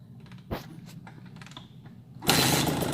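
Motorcycle fitted with a newly installed Lectron carburetor starting without choke: a few cranking clicks and scrapes, then the engine catches and roars loudly up close at the end.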